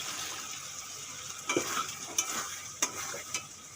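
Fried potatoes and carrots stirred into a sizzling masala for an aloo paneer curry, with a steady frying hiss and several sharp scraping stirs of a spoon against the pan.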